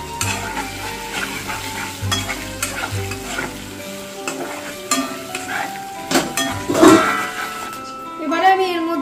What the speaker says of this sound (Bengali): এবারে এটা ভালোভাবে ফ্রাই করে নিচ্ছি।